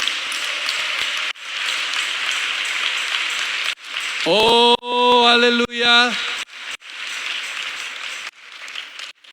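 A church congregation bursts into sustained applause, a dense wash of clapping that breaks briefly while a voice calls out, then resumes loud and steady.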